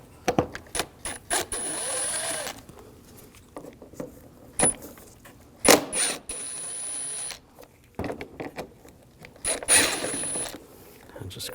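Ratchet fitted with a T20 socket backing out the headlight ballast screws on a 2006-2009 Audi S4, giving short bursts of clicking pawl ratcheting separated by pauses and small handling noises, close up.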